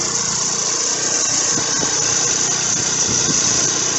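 A 53cc four-stroke motorized bicycle engine runs steadily and smoothly on a rainy day, a continuous close, even drone with no pauses or voices.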